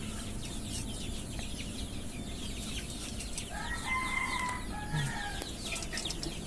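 Desi chickens on a poultry farm cluck and call over steady barn background noise, with a clearer run of clucks in the middle and no one talking.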